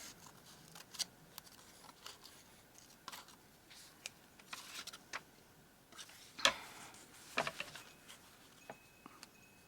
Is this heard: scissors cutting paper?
yes